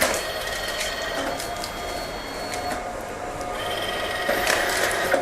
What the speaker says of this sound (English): pay more attention to when the printer actually starts printing